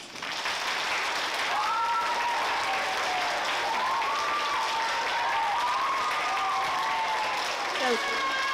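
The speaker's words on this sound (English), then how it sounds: "Can we have one more round of applause for our guests?" Steady applause from a school audience welcoming guests from the VSO, a dense wash of clapping that holds for several seconds while a voice is heard briefly over it.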